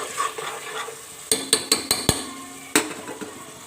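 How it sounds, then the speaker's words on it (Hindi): A spoon clinks and scrapes against a pan as chicken and chickpea masala is sautéed for murgh cholay. Soft sizzling sits underneath, then a quick series of sharp knocks lands near the middle, followed by one more later on. "अब मुझे इसको अच्छे तरीके से भून लेना है।"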